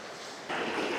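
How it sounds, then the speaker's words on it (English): A river flows beside a mountain walk up Mayar and Driesh from Glen Clova as a close, steady rush of water that swells louder halfway through, with no voices. "I found a river."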